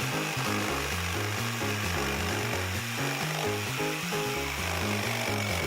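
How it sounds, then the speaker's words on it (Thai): Steady back-and-forth sawing through wood, a regular rhythmic rasp repeating for several seconds, close up with no talking. "ที่นี่มาเลื่อยได้เลย"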